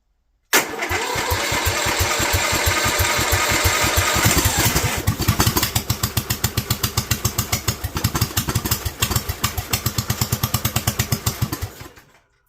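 Honda GX390 small engine with a Kohler carburetor starts abruptly, revs briefly, then settles into a loud, rhythmic, slightly uneven idle thump before dying out at the end.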